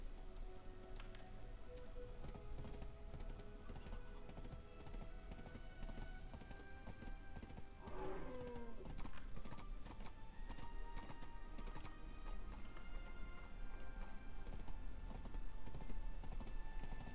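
A horse in Black Desert Online clip-clops steadily through a city under rain, the hoofbeats a soft continuous patter with a brief whinny midway, faint and distant, no talk.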